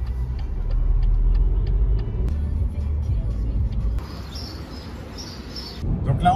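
Car driving on the road near Troyes, heard from inside the cabin as a steady low engine and road rumble, with a faint repeating ticking at first and some higher chirping sounds later on.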